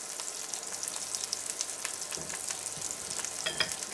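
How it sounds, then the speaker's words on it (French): A small whisk beats eggs with cream in a bowl for a salmon, shrimp and asparagus quiche, giving a quick, continuous metallic scraping and light tapping that stays fairly soft and steady throughout. "avec les œufs, on va fouetter avec la crème"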